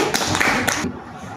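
Brief burst of applause from an audience at a school guidance-counselling workshop session, dense clapping lasting under a second before cutting off into quiet room tone.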